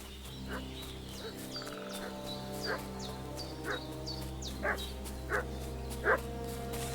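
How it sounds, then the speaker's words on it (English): A dog in the medieval world of the game Kingdom Come: Deliverance II barks repeatedly at a distance, evenly spaced yelps over a steady ambient hum, with no voices. "What's that dog making such a fuss about?"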